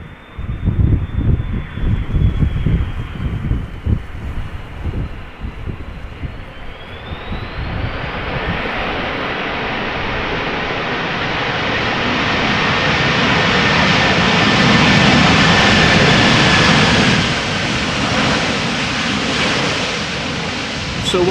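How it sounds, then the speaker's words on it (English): Delta Airbus A330-300 airliner touching down at Amsterdam Schiphol in a crosswind, its jet roar swelling into a loud, broad rush of reverse thrust that holds steady and then eases, heard close and alone. "Airbus A330-300, 7 years old, first flight October 2015, now touching down after 7 hours and a minute of flying according to flight radar"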